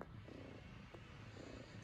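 Close, soft, continuous purring of a Devon Rex cat, a low rhythmic rumble with no talking over it.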